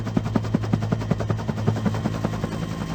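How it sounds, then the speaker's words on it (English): Harold the helicopter's rotor blades whirring in a Thomas & Friends video game, a steady rapid chopping pulse of evenly spaced thumps repeating loudly throughout with no talking. "Click on Harold's rotor blades as fast as you can to make Harold take"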